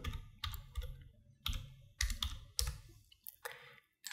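Computer keyboard keys pressed in a quick, uneven series of sharp clicks and clacks, close and fairly quiet, with short pauses between bursts and no talking.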